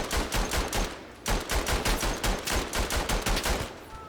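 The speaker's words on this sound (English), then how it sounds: "just deploy the machine gun" Rapid sustained machine gun fire in the Verdun World War I video game, two long bursts of evenly spaced loud shots separated by a short pause.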